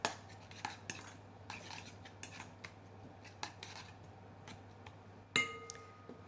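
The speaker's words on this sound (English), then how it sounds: "Just going to give it a stir." Utensil stirring food in a pot during a cooking workshop, with light, quiet metallic clinks and scrapes in an irregular rhythm over a low steady hum, and one sharper clink near the end.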